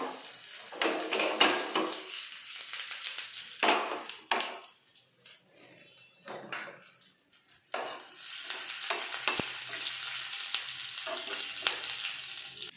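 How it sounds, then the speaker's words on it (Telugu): Tempering seeds and chilies fry in hot oil for a toor dal tomato curry, making a loud crackling sizzle. It dips between bursts, with wooden stirring and pan knocks, then swells strongly again as more ingredients go in. "ఆయిల్ మరిగాక ఇందులోని తాలింపు గింజలు వేసుకోవాలి"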